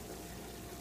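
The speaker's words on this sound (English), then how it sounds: "It's a little over 45 gallons of water boiling there." About 45 gallons of water at a steady rolling boil near 220 degrees in a Blichmann 55 gallon boiler, giving a continuous close rumbling bubbling roar with no talk.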